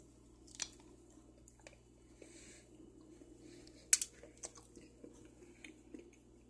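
A square of Ghirardelli Raspberry Radiance chocolate bar being bitten and chewed close up, with a sharp snap near the middle followed by soft, irregular chewing and mouth sounds over quiet room noise, with no talking.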